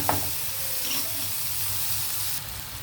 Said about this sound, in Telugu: ఇదిగోండి కొంచెం మగ్గాయి ఉల్లిపాయలు టమాటాలు.